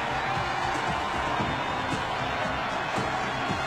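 Home crowd at Lambeau Field roaring after a Packers touchdown in a 1999 NFL game against the Vikings, a dense, continuous wash of cheering at moderate level with no distinct individual voices.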